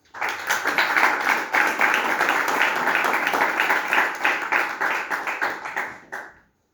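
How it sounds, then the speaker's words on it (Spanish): Strong round of audience clapping at a formal commemorative lecture session, dense and steady for several seconds before tapering off and stopping near the end. "lo invitamos al señor Roberto Mendoza a pasar adelante, con un fuerte aplauso"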